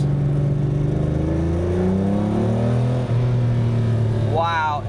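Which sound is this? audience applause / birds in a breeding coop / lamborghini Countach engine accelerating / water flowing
lamborghini Countach engine accelerating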